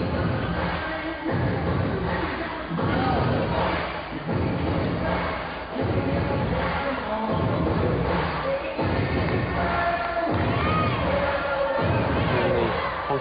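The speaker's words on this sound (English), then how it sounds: "Hong Kong crowd are getting very raucous there" A raucous Hong Kong crowd cheers and roars throughout at an indoor women's volleyball match, with surges of shouting and rhythmic thumping of clappers or drums. The sound carries on steadily for the whole stretch.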